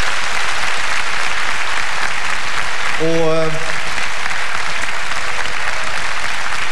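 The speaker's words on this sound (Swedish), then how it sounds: "Vi ska ge dem en riktigt varm applåd." A TV studio audience applauds during a 1991 Swedish televised song contest, a loud continuous roar of clapping with a brief tonal musical sting partway through and a short spoken word near the end.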